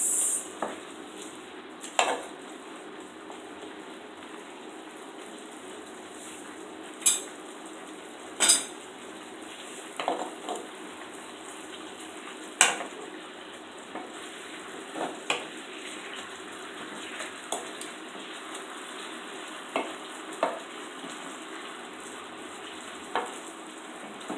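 Sweet and sour fish with pineapple cooking in a pan, a steady soft sizzle and bubbling with periodic clinks and scrapes of a utensil stirring, with no talk.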